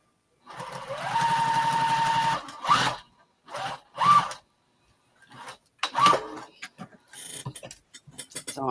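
Sewing machine stitching curves on a quilt: a steady run of rapid mechanical stitching for about two seconds, then short separate bursts with pauses between them, close and clear.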